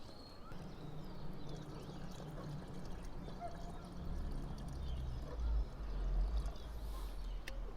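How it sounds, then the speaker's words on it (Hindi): Three litres of water pour into a container of chopped fruit peels, a soft, steady splashing and gurgling fill heard close up and faint, with a low rumble underneath. "हम इसमें 3 लीटर पानी डालेंगे।"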